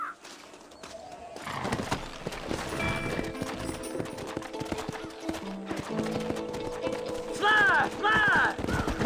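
Horses gallop with rapid hoofbeat clip-clop and whinnies in the Western video game Red Dead Redemption, under game dialogue, with a loud neigh near the end.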